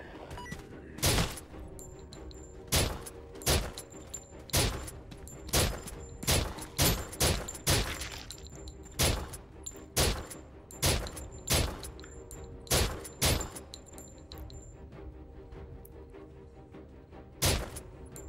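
Gunfire in the VR shooter SURV1V3 while fighting enemies: about fifteen sharp, loud single shots in an irregular rhythm, some clustered close together, with quieter gaps between.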